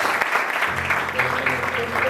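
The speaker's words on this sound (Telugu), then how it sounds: "వాళ్ళని వెల్కమ్ చేస్తూ క్లాప్స్ కొడదాం ఒకసారి." Applause from a crowd at a semi-Christmas church gathering, welcoming a visiting family with a short burst of dense clapping, with a voice blended in.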